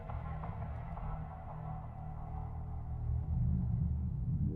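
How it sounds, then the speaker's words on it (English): Seamless ambient loop for a horror game built in FMOD, signalling an enemy nearby: a low, dark rumbling drone with a murky mid-range wash, steady and fairly quiet, swelling slightly toward the end. "This is a 1 minute seamless loop that will just inform the player that there is an enemy nearby."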